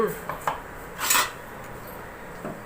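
A spoon stirs vatha kuzhambu curry in a metal pot, making a few close, brief clinks and scrapes against the pot over a quiet background.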